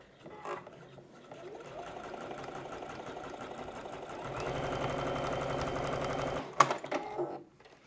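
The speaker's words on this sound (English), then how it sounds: "So you can just do a quick straight stitch all the way around." A sewing machine straight-stitches a decorative patch onto the inside of jeans, running steadily for several seconds and growing louder midway, then stopping with a sharp clack and a few light handling clicks.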